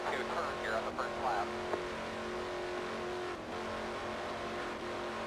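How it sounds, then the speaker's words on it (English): Race car engine in a Daytona 500 video game drones steadily at high revs, bouncing off the rev limiter, with someone talking over it throughout. "we're hitting the rev limiter"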